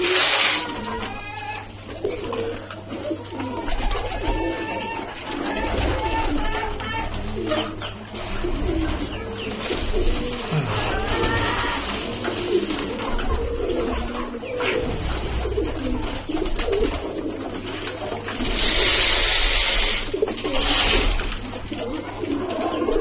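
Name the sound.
pigeons cooing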